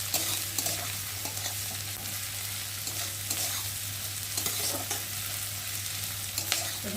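Onions fry in oil in a pan for an egg omelette, a steady close sizzle broken by light, repeated stirring and scraping sounds.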